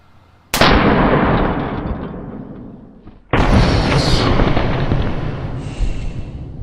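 A compressed air blaster fires at a test dummy in two loud, sharp blasts, the second about three seconds after the first. Each blast is followed by a long, broad hissing rush that slowly fades.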